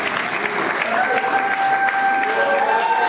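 Church congregation applauding and cheering in worship, a steady wash of clapping with voices rising through it and sustained sung or shouted tones over the top.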